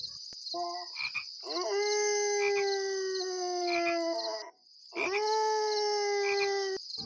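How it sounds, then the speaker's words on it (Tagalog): Dogs howl at night in two long, drawn-out cries, the first preceded by a few short yelps. There is a brief pause before the second howl rises and holds, close and loud against a quiet background. "Mga alulong ng aso."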